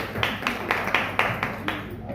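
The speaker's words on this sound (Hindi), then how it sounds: "इनके लिए भी जोरदार ताली ठोकी है" Audience at a commemoration event for freedom fighters in Indore clapping in a steady, fairly loud rhythm of about nine sharp claps, with a faint voice beneath.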